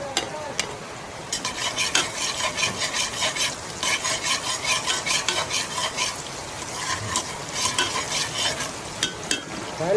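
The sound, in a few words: onions frying in a pan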